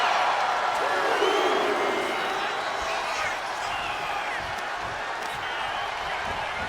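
A wrestling arena crowd cheers and applauds steadily at moderate distance, a broad wash of clapping and whoops running beneath a commentator's talk.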